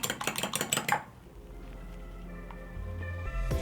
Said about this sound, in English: And then I'm going to crack an egg in a bowl.